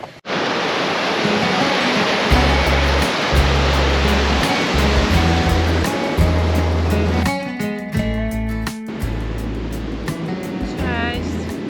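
Steady, loud rush of surf breaking on a beach, with a pulsing beat of music playing over it throughout.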